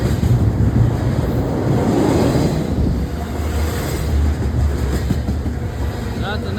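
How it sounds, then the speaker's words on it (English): A long KCS freight train rolls past close by, a loud continuous rumble with rail clatter and wind buffeting the microphone. "That's a nice train."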